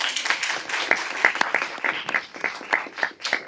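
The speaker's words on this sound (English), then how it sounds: "They're applauding before I even say anything." A room of attendees at a health literacy and informed consent discussion breaks into applause, a crisp, rippling clatter of many hands with uneven swells, fairly close and without talk over it.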